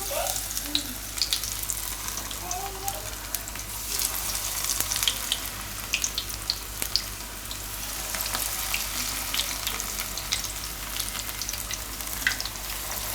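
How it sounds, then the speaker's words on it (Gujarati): Methi and sooji gota batter drops into hot oil, giving a steady close sizzle and bubbling of frying that runs continuously under faint background sounds. "કાઢી દેવું તેલમાં"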